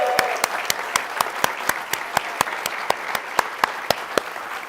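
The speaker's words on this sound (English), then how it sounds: "Big applause of welcome." An audience at the XRCC 2025 opening keynote applauds to welcome a speaker on stage, a steady, even wash of many hands clapping with regular crisp beats, sustained throughout.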